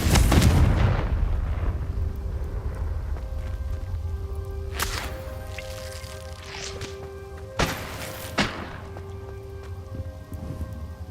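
A Confringo fire spell bursts in Hogwarts Legacy with a loud, booming blast up front that rumbles away, followed by a few sharper cracking impacts spread through the rest of the moment.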